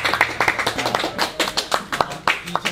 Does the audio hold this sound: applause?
yes